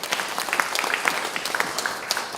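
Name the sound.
church congregation applauding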